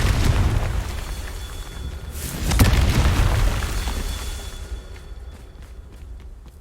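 A Confringo spell explosion in Hogwarts Legacy bursts into a deep booming blast with a rushing crackle, then the rumble slowly decays and fades into quieter game ambience.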